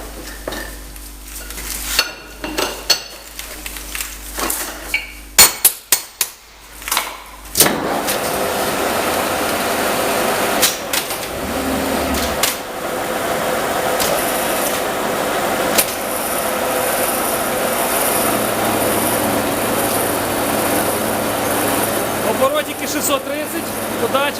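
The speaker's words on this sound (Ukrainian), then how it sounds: "Так, отже, ми починаємо фрезерувати." A milling machine cuts a workpiece in a workshop, settling into a steady, loud grinding drone for the last two-thirds. Before that come scattered clanks, handling noises and talk.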